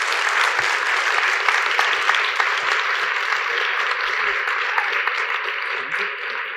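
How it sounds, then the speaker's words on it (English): A conference audience in Montreal gives sustained, dense clapping for the panelists at the close of a plenary session on Canadian democracy. The applause holds steady for several seconds and then begins to thin slightly. "please give our panelists a very warm applause"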